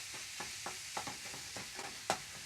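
Curry-spiced ground meat sizzles as it browns in a pan, a close, soft frying hiss punctuated by a regular series of light scraping stir strokes, with no talking.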